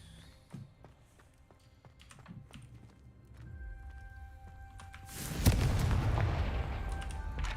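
Confringo blasting curse in Hogwarts Legacy, a sudden loud fiery burst that swells into a sustained roaring crackle after a stretch of quiet clicks and taps.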